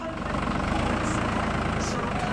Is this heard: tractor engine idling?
yes